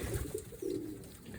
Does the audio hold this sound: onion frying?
no